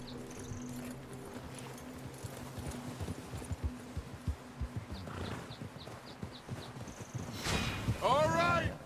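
Horse hooves clip-clop in Red Dead Redemption 2 on PS4, a steady run of hoofbeats in the middle distance mixed with game music and voices, with a louder burst of noise and a whistle-like tone near the end.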